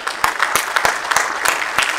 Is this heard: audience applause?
yes